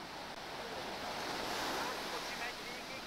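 Ocean waves break on the shore at Cancun as a steady broadband wash that swells in the middle, with wind noise buffeting the microphone and no clear speech.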